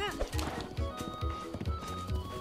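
A horse gallops in Zelda: Breath of the Wild, steady rhythmic hoofbeats thudding at a fast, even pace, close and loud, with someone talking over them.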